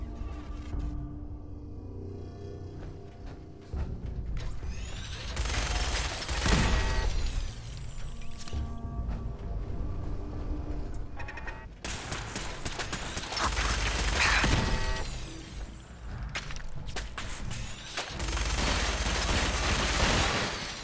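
Laser turrets fire in Fallout 4 in rapid bursts with mechanical clatter. The volleys are loud and sustained in several waves, with brief lulls between them.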